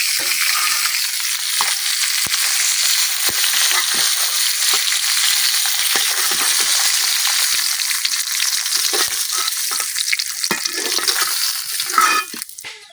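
Tilapia fish frying in hot oil, a loud dense crackling sizzle that holds steady throughout, with occasional sharper pops and a brief burst of stirring near the end.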